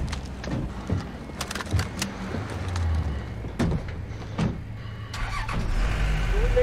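Military trucks starting and driving in the Modern Warfare video game, engines turning over and running near and loud, with door and gear clunks scattered over the steady motor rumble.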